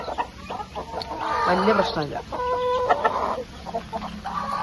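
Backyard hens on a rooftop terrace cluck and squawk nearby in short bursts, while a person talks over them.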